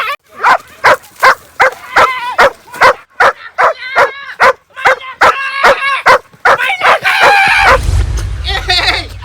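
A dog barks rapidly and repeatedly at close range in an even rhythm, then a low rumbling noise takes over near the end.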